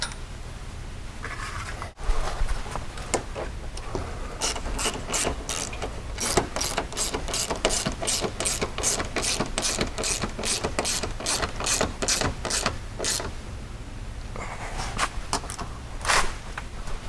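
A hand ratchet tightens factory mounts on a 2020 Polaris General, clicking in fast steady bursts of close, crisp pawl ticks with brief pauses between strokes, no one talking.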